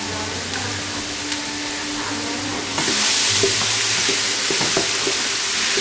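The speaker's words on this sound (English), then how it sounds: "We want to stir it up. Maybe turn it down a little bit." Roasted garlic and vegetables sizzle steadily in a hot beef stew pot, with scattered scraping stirs; the sizzle swells louder partway through and continues close and even, with no talking.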